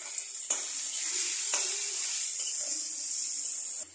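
Green chillies dropped into hot spiced oil, with turmeric and chilli powder, for a spicy chilli paneer, giving a steady bright sizzle with a couple of sharp hissing surges as they hit the pan.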